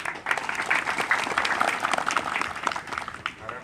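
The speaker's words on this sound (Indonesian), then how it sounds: "Tepuk tangan untuk Pak Tomon." Dense, steady applause from a group at a search-and-rescue training gathering fills a few seconds, rising and falling slightly at moderate volume with no voices on top.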